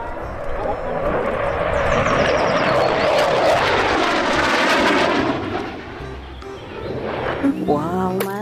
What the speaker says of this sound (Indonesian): Wadidaw, ini pesawat jet tempur,